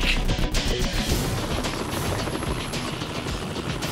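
A helicopter from Metal Gear Solid 2 on PS2 gives a loud, steady rotor roar with rhythmic thumping and scattered metallic clatter, holding constant throughout.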